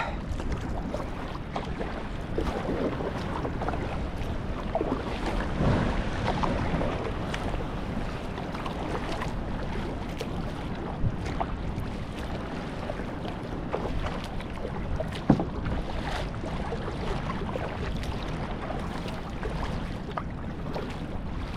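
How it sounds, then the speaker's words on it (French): Sea swell heard from a kayak near a coral reef barrier: steady broadband water wash and wind rumble throughout, with a single sharper splash or knock partway through, no voices. "Ouais, ouais, il y a de la houle."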